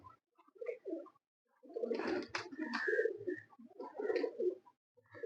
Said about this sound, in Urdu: اچھا کبوتر ہے